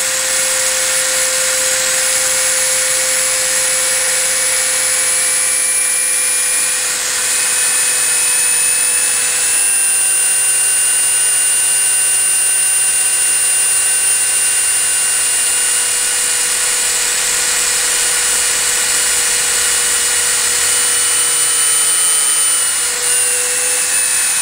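A power drill fitted with a bit runs without pause while a hole is drilled for a wind turbine rotor, a loud constant motor whine whose pitch drifts slightly up and down as the load changes.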